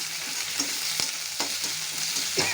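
Spices including cumin, coriander and ginger paste fry in oil in a pan with a constant close sizzle, broken by several scraping stirs of a spoon.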